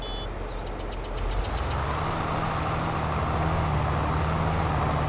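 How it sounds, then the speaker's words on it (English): John Deere 8R series tractor engine in Farming Simulator 22 runs as a steady, loud diesel drone with a low rumble, holding an even pitch throughout with no talking. "Very nice sounding tractors indeed. All these 8R series tractors sound the same."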